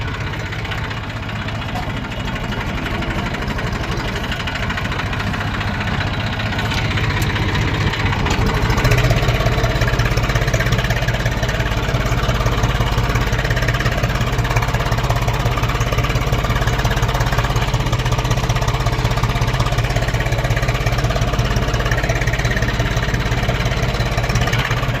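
A tractor engine runs at idle on a village farm plot, a steady low rumble with a knocking pulse that holds throughout and grows slightly louder partway in.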